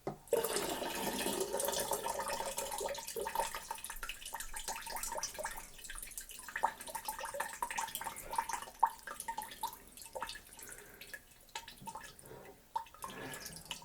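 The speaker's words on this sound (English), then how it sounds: "Let's pour off some of the juice from our bowl" Pineapple juice poured off from a bowl while making pineapple mead, a continuous splashing liquid stream running steadily for the whole stretch at close range, with no talk.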